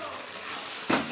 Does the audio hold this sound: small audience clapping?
no